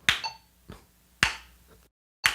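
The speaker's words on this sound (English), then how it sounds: "then you're going to do one clap with every single click," Hand claps in time with a metronome click, four sharp transients spaced roughly half a second apart with a brief silent gap, close and alone with no voice.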